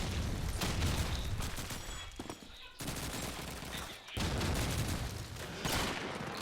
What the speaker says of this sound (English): You see Armia waiting out those grenades